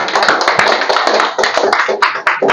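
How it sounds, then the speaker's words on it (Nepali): Audience applause in a Nepali business seminar on direct selling, a dense burst of clapping hands with sharp taps throughout, loud and close, lasting the whole moment. "सबैजनालाई एकचोटि जोरदार ताली"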